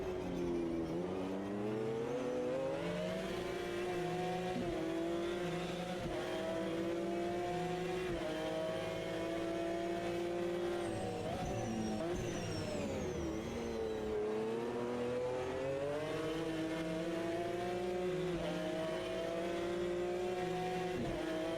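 Porsche and McLaren GT1 race cars roar through a video game race at Donington Park, their engines droning and shifting in pitch as they rev and accelerate, loud and continuous with no talk.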